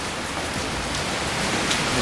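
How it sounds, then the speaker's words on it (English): Heavy rain pours at an airport in New York as a dense, steady hiss of drops beating on surfaces, loud and unbroken from start to finish with no voices. "I'm at the airport right now, and just check out this rain."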